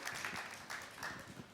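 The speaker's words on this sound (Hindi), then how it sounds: "मैं दोबारा तुम्हारे लिए ताली बजाना चाहता हूं" Applause from a studio audience for a comedy performer on a televised comedy competition finale, a steady, fairly quiet wash of clapping throughout, with no voices over it.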